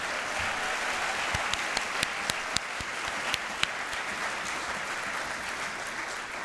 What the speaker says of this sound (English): Let's have a big round of applause for your outstanding principal